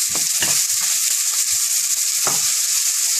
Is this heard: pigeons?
no